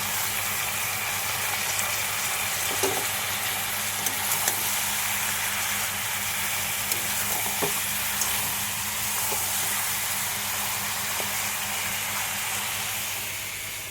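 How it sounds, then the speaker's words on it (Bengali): Garlic paste frying in a pan gives a steady, close hiss and sizzle that holds evenly throughout with no talking, only a few faint clicks and a low hum underneath. "এবারে রসুন বাটাটা দিয়ে নেব"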